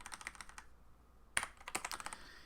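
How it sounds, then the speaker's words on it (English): Fast bursts of clicky computer keyboard typing while working in build mode for a game project, close and fairly quiet, with a brief pause partway through before the keystrokes resume. "my typing is crap tonight"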